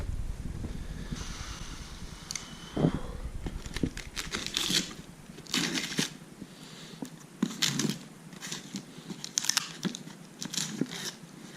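Crinkling plastic wrapping and rustling fabric as a new Flysurfer Sonic 3 11m kite is unpacked, with close, irregular crackles and tearing bursts over faint wind noise.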